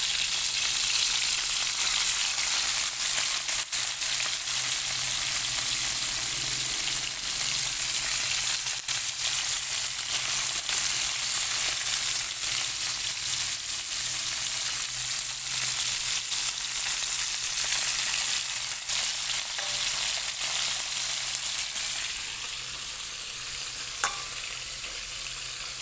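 Egg fish fry in a pan with a loud, steady, hissing sizzle that continues unbroken, close up, fading slightly near the end.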